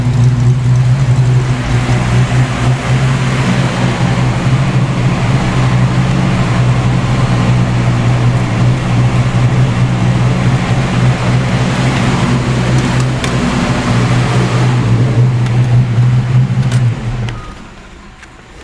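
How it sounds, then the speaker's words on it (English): A Ford Fox Body Mustang engine idles close by with a slight rolling idle, a steady loud low rumble that holds for most of the clip before dropping away near the end. "Still got that slight rolling idle too."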